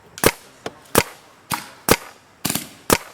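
Paintball marker test shots outdoors, seven sharp pops at a fairly steady pace, each a short crack, fairly close and alone with no talking.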